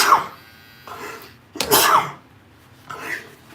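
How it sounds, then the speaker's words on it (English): A person sneezes close by, with a few sharp bursts in quick succession and short quiet gaps between them. "Oh, I gotta sneeze."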